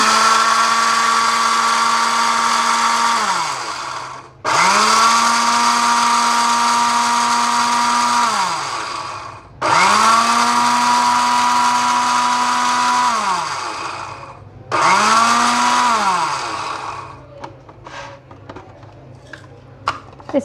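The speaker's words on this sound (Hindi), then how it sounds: "इन सारे मसालों को हम ब्लेंड कर लेंगे" An electric blender grinds whole spices for homemade masala in four loud whirring runs, each starting abruptly, winding down as the motor slows, with short pauses and faint rattles at the end.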